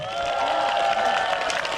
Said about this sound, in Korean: 박수 한 번 주세요 두 분한테.